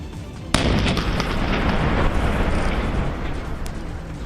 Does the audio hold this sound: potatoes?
no